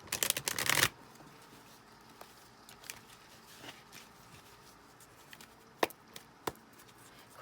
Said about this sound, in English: Let's get some oracle, or rather tarot cards here.